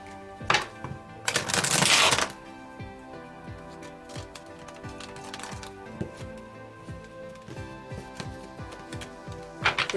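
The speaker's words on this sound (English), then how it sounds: "I'm going to shuffle 3 times." Tarot cards being shuffled by hand, a burst of riffling and soft papery flicks close by, followed by scattered light clicks and taps with no talk.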